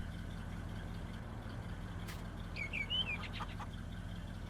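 Chickens at a coop on a farm in Farming Simulator 19, one or two faint clucks and chirps partway through, over a steady low engine hum with no talking.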